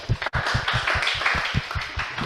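An audience gives brief applause after a scientific seminar session on galaxy formation. Hand claps come in a quick, fairly regular rhythm, close and moderately loud, over a soft room murmur for about two seconds.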